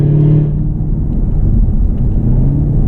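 A 2016 Cadillac CTS-V engine rumbles loudly up close, revving briefly before settling into a deep, steady growl with no one talking.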